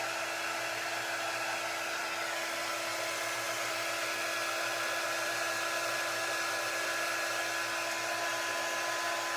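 A hair dryer blows steadily for several seconds, drying a fresh coat of paint; the close, loud whir holds without a break and no one talks.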